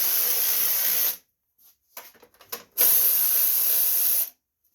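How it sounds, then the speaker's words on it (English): A high-pitched power tool with a shallow socket whirs in two sustained bursts loosening starter bolts on a 2002 Craftsman riding lawn mower, separated by a pause filled with clanks and rattles of the socket and metal parts. "I'm doing shallow socket here, where I can actually use my power tools to do that."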